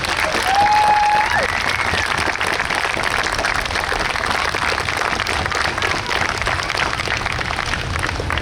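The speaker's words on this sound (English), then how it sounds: "we think it's those guys that deserve a real round of applause today" An outdoor crowd at a New York State Police special operations exhibit breaks into sustained, dense applause, with a brief whistle near the start, continuing steadily throughout.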